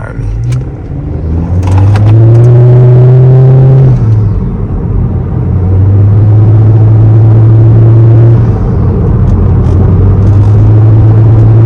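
A 1.5T Honda Accord fitted with a PRL cold air intake accelerates hard, its engine droning loudly and rising in pitch through gear pulls, with a brief dip between shifts and turbo and intake whoosh over road rumble from inside the car.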